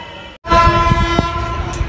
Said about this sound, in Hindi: ये ट्रेन ने सीटी मार दी है दोस्तों